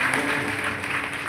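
An audience claps at a kirtan gathering in Selu, a dense, steady wash of hand claps lasting just over a second.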